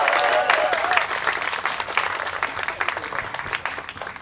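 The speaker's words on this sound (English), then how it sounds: "give another round of applause to Siti Kasim." Crowd at a rally against the RUU-355 bill applauding for Siti Kasim, lively sustained clapping with a few cheers or whistles at the start, gradually tapering off.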